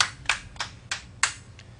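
Four or five sharp, distinct claps sound from a small group of listeners, spaced about a third of a second apart over a quiet background.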